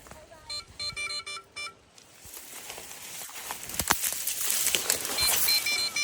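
A DJI Avata drone's emergency locator sends a series of short, bright electronic beeps pulsing rhythmically at first, then gives way to rustling, tapping noise and a rising hiss.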